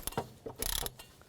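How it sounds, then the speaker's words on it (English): A torque wrench on a BMW X3 tightens a VVT solenoid bracket bolt, giving a quick run of close, dry ratcheting clicks in a short burst. "we can torque that bolt to 80 inch-pounds"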